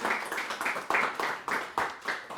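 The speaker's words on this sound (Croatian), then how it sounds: "Hvala, jedan aplauz." An audience at a poetry evening, Poligon 2024, claps in a steady, even rhythm of roughly three beats per second, moderately loud with no talk over it.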